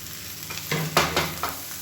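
Chutney ingredients with fresh coriander being stirred and sautéed in a pan, giving a few scraping stir strokes over a low steady sizzle, close and fairly quiet.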